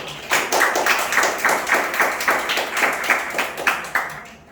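Students clapping in a lecture hall, a small group giving rhythmic, unison claps in a steady beat, close and clear with no talking over it.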